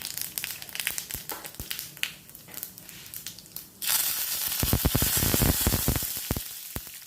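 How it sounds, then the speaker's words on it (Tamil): Mustard seeds, cumin and curry leaves hit hot oil for a chutney tempering, first with scattered crackles and pops, then a sudden loud, dense sizzle with sharp spattering bursts, close and alone. "சட்னிக்கு தாளிச்சிடலாம். எண்ணெய் விட்டாச்சு. கடுகு, ஜீரகம்,"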